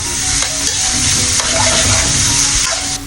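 Beef sautés in melted butter in a pan, giving a loud, dense, close-up hiss of frying that runs unbroken, with faint stirring clicks and no voices.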